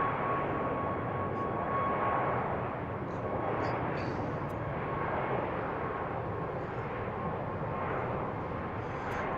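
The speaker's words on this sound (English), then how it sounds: "Another Southwest departure." A Southwest airliner departing BWI airport at dusk, its broad jet roar steady and fairly distant, holding at an even level for the whole stretch with no voices.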